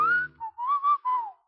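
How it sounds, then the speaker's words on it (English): A man in a radio drama gives a low whistle, a single sliding tone that rises, dips and falls over about a second, heard alone and fairly close. "he changed it to a low whistle"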